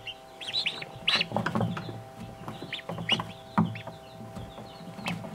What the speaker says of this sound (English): The three ducklings! They're doing great!